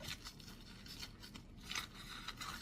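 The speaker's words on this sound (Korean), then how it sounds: "가위로 잘라주면" Scissors snip through a vacuum-sealed abalone package, giving faint, quick cutting and crinkling sounds close by, repeated several times with no talk.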